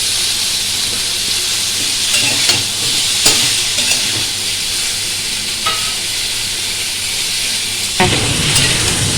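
Potatoes and cauliflower sizzle loudly in hot oil in a pan, with a continuous crackling hiss broken by several scraping stirs from a utensil, close and unaccompanied by speech.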